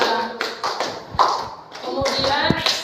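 Three separate hand claps, short sharp taps spaced unevenly across a few seconds, close by, with faint background voices and shuffling between them.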